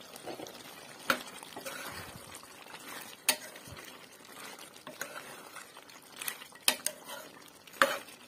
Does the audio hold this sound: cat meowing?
no